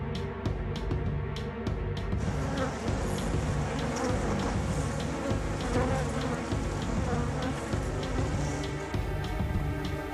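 Dense, continuous buzzing of a honeybee colony of over 60,000 bees in Paris, loud and close, droning steadily throughout with a few sharp taps early on.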